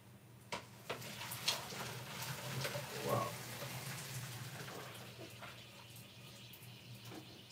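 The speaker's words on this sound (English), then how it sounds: "so I'm gonna pour off my potato" Water from boiled potatoes is poured off into a sink, a faint steady splashing rush with a few soft knocks of the pot, and no voices.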